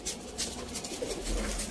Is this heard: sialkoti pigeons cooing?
yes